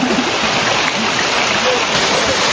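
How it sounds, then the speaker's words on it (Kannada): A waterfall in full flow after rain, a steady loud broadband rush of falling water filling the whole scene without pause, no voices on top. "ನಿಜ ಗಾಯ್ಸ್, ಫಾಲ್ಸ್ ಮಾತ್ರ ನೆಕ್ಸ್ಟ್ ಲೆವೆಲ್ಲು"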